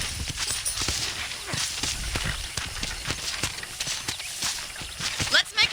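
Horse hooves clip-clop in Red Dead Redemption, a steady walking rhythm of soft thuds on a ranch, continuous throughout with faint background ambience.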